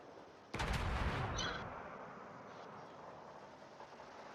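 A battleship's main guns fire in World of Warships, a single loud, booming salvo with a long rumbling tail that fades into quieter ambient game noise.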